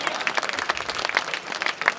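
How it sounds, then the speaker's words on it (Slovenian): Audience applauding at a reception for canoeist Peter Kauzer, a dense, lively patter of many hands clapping, fairly close and sustained throughout. "Ja, mislim, da se splača zaploskati"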